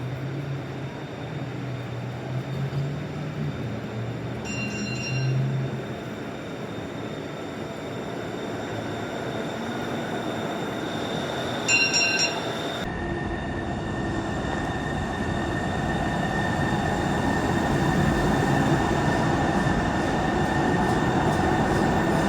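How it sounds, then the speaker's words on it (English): A Sound Transit Link light rail train rumbles steadily along the rails, its sound shifting and opening up partway through as it leaves a tunnel, with occasional brief metallic squeals. "our train's about to exit from that tunnel"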